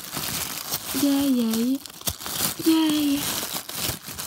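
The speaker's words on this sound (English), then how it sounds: "We're gonna have to cut this open somehow." A plastic package holding a toy Ardennes stallion is cut open, making crinkling and rustling throughout while people's voices chime in twice.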